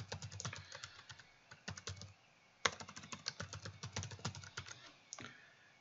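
Rapid computer keyboard typing as a username and password are entered, steady bursts of crisp clicky keystrokes with a short pause partway through, close and alone with no talk.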